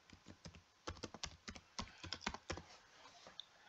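Fingers tap out an email address on a computer keyboard in a quick, uneven run of crisp key clicks, close and clear, with no voice.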